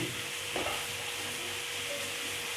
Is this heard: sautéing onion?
yes